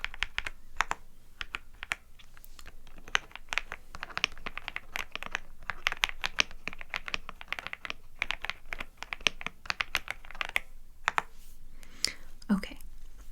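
Creamy-sounding computer keyboard typed on steadily, a dense run of soft close-up keystrokes with brief pauses, no talking.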